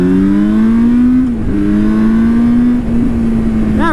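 Yamaha R6 sportbike engine revs high and steady while riding, a loud close whine holding pitch with a brief dip and recovery, then a quick rising blip at the end.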